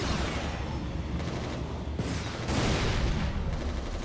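Dense, continuous gunfire in the video game Resistance Retribution, loud and near, with a rapid wash of overlapping shots and booms and no pauses.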